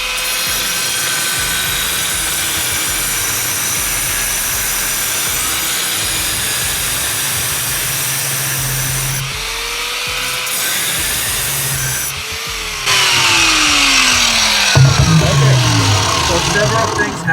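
Ryobi angle grinder with a diamond blade cutting porcelain tile by hand, a loud steady whine with broadband grinding noise running throughout, the pitch shifting and sweeping as the blade loads and bites deeper near the end.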